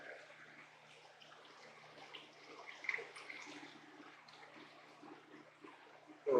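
Liquid poured through a coffee filter makes a soft, steady trickling hiss that runs throughout at low volume, ending with a brief louder knock.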